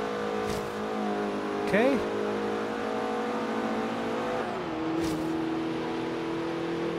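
Porsche 944 Turbo, a front-engined car, drones steadily with a rising rev sweep near the start, racing in Forza Horizon 3; someone speaks briefly over the continuous engine tone.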